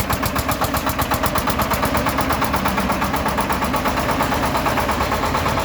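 A water-cooled Shifeng 244 belt-driven tractor engine runs steadily at close range, a rapid rhythmic chugging with a rough mechanical vibration throughout.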